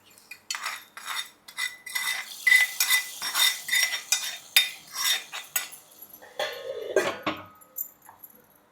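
In a kitchen making urad dal, metal utensils clink and scrape as a hot spice tempering is poured into the cooked lentils with a brief sizzle, followed by a pot lid being set down, close and busy.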